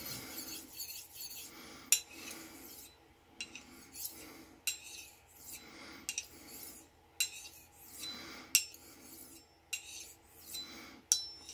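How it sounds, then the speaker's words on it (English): A Scotch-Brite pad scrubs a sharpening stone briskly under running water, giving repeated short rasping strokes in an irregular rhythm over a faint steady water hiss, close and moderately quiet. "running water over the stone and just rub it briskly with the Scotch-Brite pad"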